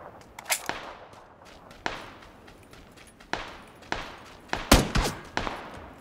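Gunfire in a shooter game: sharp, sudden shots and short bursts ring out at irregular intervals, some loud and close, others further off, with echoing tails between them.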